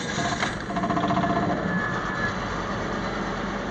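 A car engine runs at a steady idle after repair, a continuous mid-pitched rumble with light vibration, close and fairly constant throughout.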